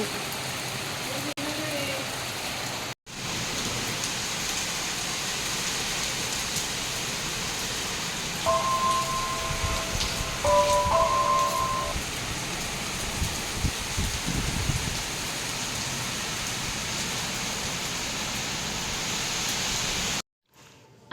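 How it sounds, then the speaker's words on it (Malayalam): Steady, dense rain hiss fills the scene, with a brief tonal beep partway through and faint voices underneath. "ഉച്ചയ്ക്ക് ശേഷം നല്ല മഴയായിരുന്നു ഇവിടേക്ക്"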